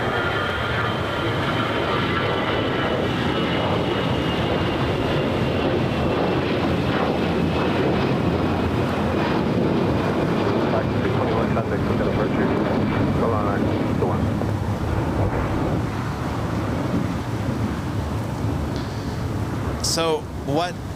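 An Alaska Airlines jet takes off from runway 25 right at LAX, a sustained engine roar heard from a distance with a steady whine that holds for twenty seconds, with wind noise and talk over it.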